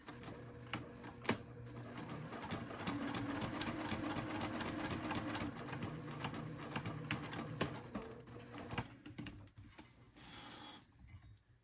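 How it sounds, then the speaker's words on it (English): A sewing machine stitches a straight row across the bottom of a leather batwing wallet along the slit line, a steady fast mechanical whir with rapid needle ticking running continuously at moderate volume with no talk. "I just stitched a row just straight across, right at the bottom along that slit line"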